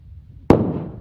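A single sharp firecracker bang goes off nearby, loud and sudden after quiet background, with a short rumbling decay.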